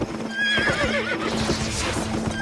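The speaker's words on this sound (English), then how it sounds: "And so what you're hearing are real horse sounds." A real horse whinnies in a shrill, wavering neigh, recorded as a sound effect for the game Albion Online, with soft hoof clip-clops and a low steady hum underneath; no talking.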